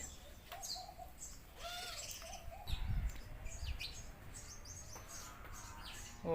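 Sparrows chirp outdoors at a spot where grain has been scattered for them, repeated short tweets from several birds at moderate distance over a soft background hush, with a brief rustle midway.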